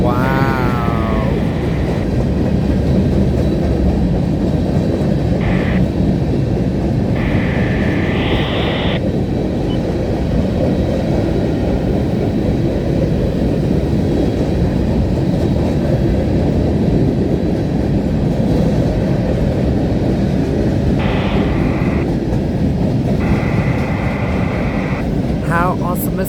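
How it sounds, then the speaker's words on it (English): Norfolk Southern freight train M78 rolls past with a loud, continuous rumble. Several horn blasts sound along the way, near and dominating. "The symbol for this train is the NS M78"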